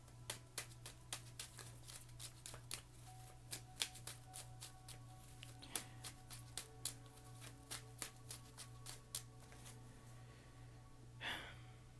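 Repeated crisp flicks and riffles of tarot cards being shuffled, steady and close, over a low constant hum, ending with a softer rustle.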